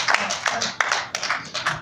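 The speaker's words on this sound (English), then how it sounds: "Clap your hands" Several sharp hand claps in an irregular rhythm, fairly close and moderately loud, set against a lively room during an inspirational gathering.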